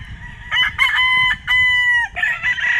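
Rooster at a gamefowl farm crows repeatedly in loud, close, harmonic calls that rise and break, about three crows in quick succession with little pause between them.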